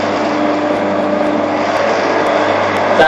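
A Shopsmith woodworking machine's motor runs at slow speed with a loud, steady hum and whir that stays even and continuous throughout, with no speech over it.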